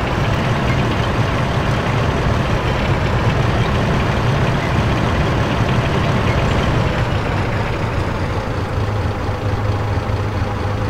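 A tank engine in a war video game, a loud, heavy, constant low rumble and drone while the vehicle drives, with no break throughout.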